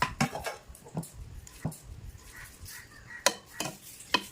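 Masala is poured and stirred into a home-style egg biryani in a pan, giving soft scraping stirs with faint sizzling, a few sharp utensil clicks, quiet and close.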